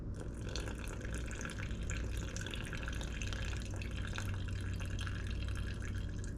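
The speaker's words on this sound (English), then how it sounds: "we're gonna do 60 grams of water" Water poured into a sourdough starter jar, a steady unbroken trickle with dense splashing that runs on at an even level through the whole stretch, close by, with no talk over it.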